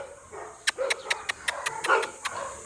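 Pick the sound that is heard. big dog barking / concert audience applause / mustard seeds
big dog barking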